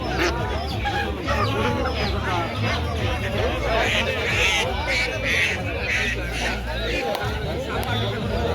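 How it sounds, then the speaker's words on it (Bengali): Local country chickens cluck and squawk continuously at a busy weekly village poultry market in Bangladesh, close and loud over a background of crowd chatter and talking. "এটা কি দেশি মুরগি"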